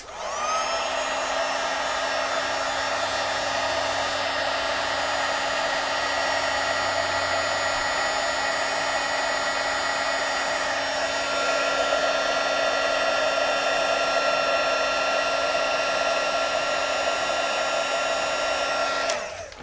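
Steady, loud whooshing hum of an embossing heat tool melting embossing powder on a handmade card, running continuously for the whole stretch with no talking.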